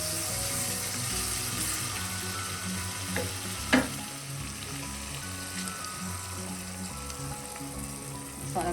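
Onions sautéing in hot oil in a pan for Kerala-style egg curry, a steady close sizzle with stirring clatter and one sharp utensil knock partway through.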